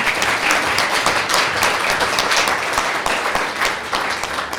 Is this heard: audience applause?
yes